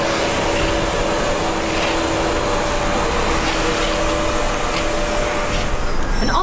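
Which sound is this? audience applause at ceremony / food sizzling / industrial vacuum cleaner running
industrial vacuum cleaner running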